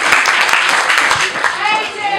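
An audience at a celebration event in a large shed claps and cheers, a dense burst of hand claps mixed with voices that fades slightly toward the end.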